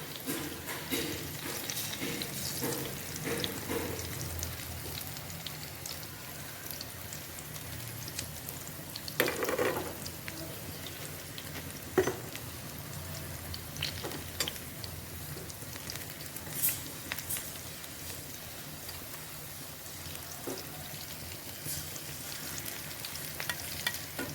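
Potato and rice flour tikkis fry in hot oil, giving a steady crackling sizzle with scattered pops and a few louder bursts throughout, close by with no talking.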